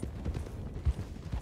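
Horse hooves clip-clopping in Red Dead Redemption 2, a few soft uneven thuds of a horse moving at close range over a low background.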